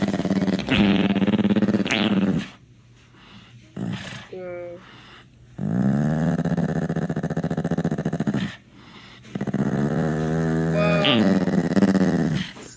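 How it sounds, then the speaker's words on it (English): An angry dog growls in long, rumbling bursts with short pauses between them, close and loud, with a few higher yips and whimpers mixed in. "Dude, the dog's angry, Buff."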